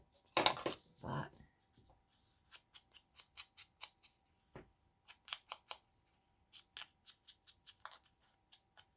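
Scissors cutting paper for a junk journal, a few heavy rustles followed by a quick series of crisp, close snips in uneven rhythm in a quiet room.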